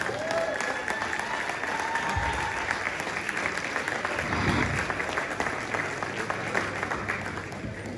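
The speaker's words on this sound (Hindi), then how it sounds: "खड़े होकर जनाब खालिद साहब की तालियों को।" A standing audience at a comic mushaira poetry gathering at a Lahore medical college claps in a loud, dense, sustained burst with a slight swell midway, the crowd noise carrying on throughout.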